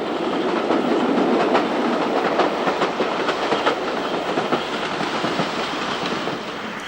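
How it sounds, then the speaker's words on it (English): Express train bound for Birmingham on the main line out of Euston, heard from aboard as a steady loud rumble with rhythmic wheel clatter over the rails throughout. "This is the main line out of Euston, seen from an express bound for Birmingham."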